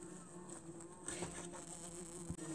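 A dense, steady hum of many bees buzzing inside a busy hive, a soft continuous drone heard up close with faint shifting pitches and small crawling rustles.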